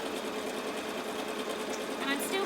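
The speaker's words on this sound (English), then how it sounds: "I'm still following the edge of my sewing machine foot along the edge of my fabric" A sewing machine runs steadily, stitching fabric for a reversible tote bag, with a fast, even mechanical whir and rattle close by, while a voice talks over it.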